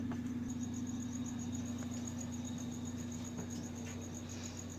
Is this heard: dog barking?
no